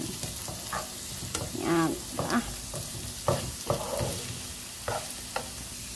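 Carrots sautéing in a hot pan give a steady sizzle broken by repeated stirring scrapes and clanks, with a voice speaking briefly over the cooking.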